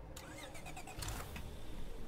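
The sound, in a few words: car engine starting in video game State of Decay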